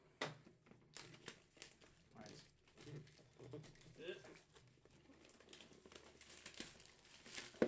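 Plastic wrapping on a Magic: The Gathering bundle box being cut and torn open, with crinkling and tearing bursts scattered across the clip, close up and fairly quiet, under a person's intermittent talk.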